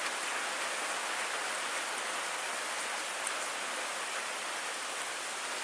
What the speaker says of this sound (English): the rain's coming straight down, and then all of a sudden the winds whip up a little bit